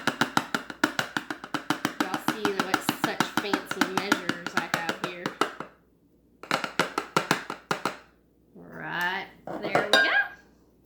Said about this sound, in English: And it says to mix in 1 cup of cocoa powder.